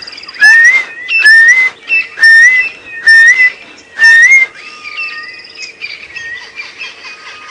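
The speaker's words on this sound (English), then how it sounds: "That's the boo-boo calling there, you can hear it going." A boubou bird repeats a clear whistled call five times in an even rhythm, loud and close, then fainter chirps and insect-like buzzing continue, on an early morning safari drive.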